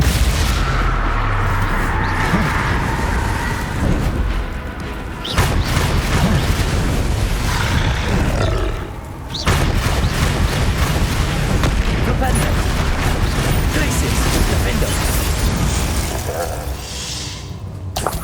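Spell blasts and explosions in the Hogwarts Legacy video game come as loud, booming bursts over a continuous rumbling battle, with brief drops between them and voices calling out spells.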